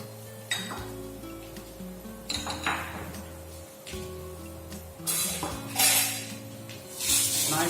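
Garlic and pre-blanched vegetables in a pan, with metal utensil clinks and scrapes against the pan, stirring scuffs and light bursts of sizzle, close and moderately loud with no talking.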